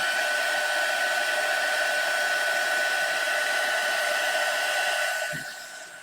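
A handheld hair dryer blows steadily to dry wet paint on a vintage Valentine craft tag, a loud constant whine and rush that holds for about five seconds, then winds down as it is switched off.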